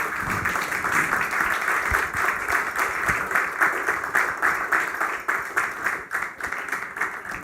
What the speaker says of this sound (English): Guys, could you give Glenda a wonderful round of applause?